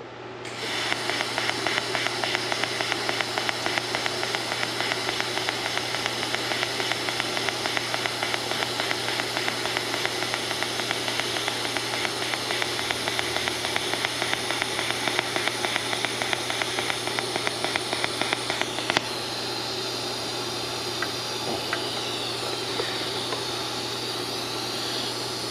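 TIG welding titanium at home with extra shielding gas flow, a steady close hiss with a rapid pulsing buzz for about nineteen seconds, then only the gas hiss continues.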